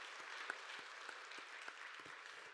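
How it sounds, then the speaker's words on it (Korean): A church congregation claps at a Christmas service to bless seven newly baptized babies and their families, a soft, distant, fairly sparse applause with a few sharper individual claps standing out. "큰 박수로 한번 귀한 가정과 우리 아가들 축복하십시다"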